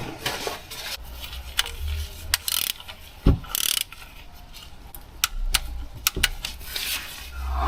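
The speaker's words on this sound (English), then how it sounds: "got my torque wrench again" A torque wrench tightening a bolt to 7 Nm during a Suzuki Swift JATCO CVT service, rapid ratcheting clicks with rubbing metal and a sharp click partway through, close up.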